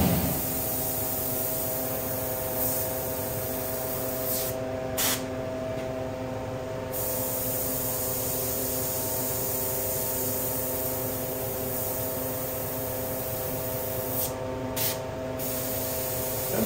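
An airbrush sprays paint on skull artwork with a continuous close hiss over a low mains hum. The hiss cuts out briefly a few times, and small clicks mark the trigger being released.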